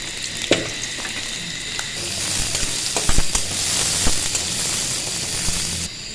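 Onions sizzling in hot oil in a karai, a loud continuous frying hiss with occasional stirring clatters and sharp pops, up close, cutting off abruptly near the end.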